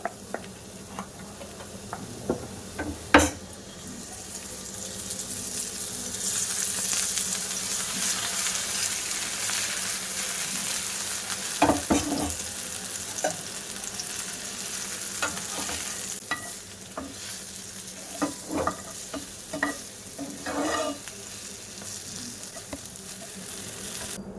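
A semolina and curd snack fries in oil in a pan, with a continuous sizzle swelling and easing and sharp spatula scrapes and taps scattered throughout, no voices.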